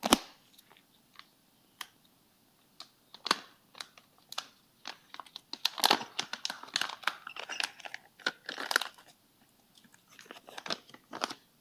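Packaging for an Elder Scrolls: Betrayal of the Second Era board game expansion, the Blacksmith Pack, being crinkled and torn open in a series of sharp, close crunchy rustles and crackles, denser in the middle, with no talking.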